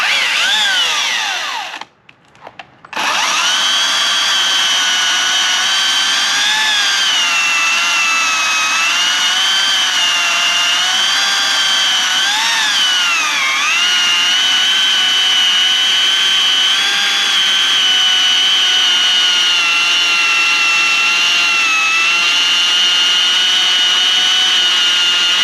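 A Stihl MSA 300c battery chainsaw whines loudly and steadily as it cuts through wood, its high electric motor pitch wavering under load after a brief stop near the start, continuing without pause.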